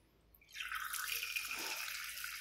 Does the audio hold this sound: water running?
yes